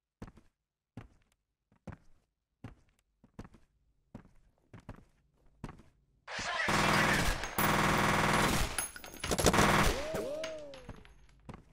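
Gunfire in the video game F.E.A.R.: a run of spaced thuds and footsteps gives way to a loud, sustained burst of automatic fire lasting several seconds, then scattered shots and a falling metallic ring.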